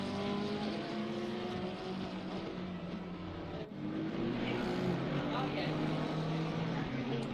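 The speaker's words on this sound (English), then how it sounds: "what that McLaren can do down the main straight against the Porsche" A McLaren and a Porsche race down the main straight of the Barcelona circuit in a racing video game, their engines droning steadily with shifting pitch and a gear change midway, while a commentator talks over them.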